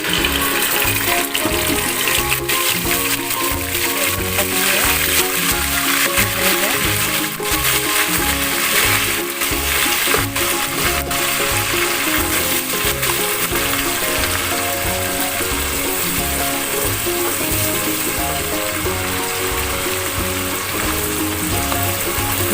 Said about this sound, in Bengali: ভালো করে ভাজতে হবে, পেঁয়াজের একটি কাঁচা গন্ধ আছে সেটা যেন চলে যায়।